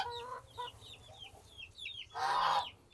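Native chicken chicks being fed crumble feed, giving repeated soft high cheeps and clucks, with a brief louder burst of rustling noise near the end; no talk.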